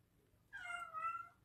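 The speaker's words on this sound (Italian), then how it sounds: "quella miagola sei sempre disperata" A cat gives a single drawn-out, wavering meow, clear and fairly close, with a faint low background hum and no talking.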